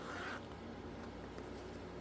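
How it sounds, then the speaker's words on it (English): Zipper on a fabric bag pulled shut during a sewing and embellishment session, one quick faint rasp up close against quiet room noise. "I hadn't closed the zipper"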